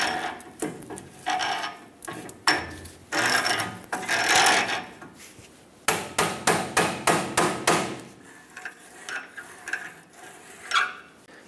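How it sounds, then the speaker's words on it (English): Sharp metallic hammer blows drive a pry bar into the outer tie rod sleeve of a 1999-2025 Ford E-350 Super Duty, coming in irregular bursts of rapid close strikes separated by brief pauses. "Take that pry bar, hammer it in here."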